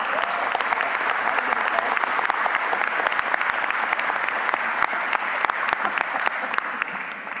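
Sustained round of applause from an audience at an industry forum, dense steady clapping throughout with no break, loud and close.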